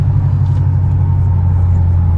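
Modded race truck engine idling with a steady deep low rumble, continuous and close, with no talk over it.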